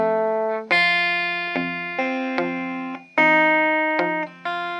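Two bars of a rockabilly tune on electric guitar, played a little slower: separate plucked notes and double-stops ring out one by one, close and clean, with no voices.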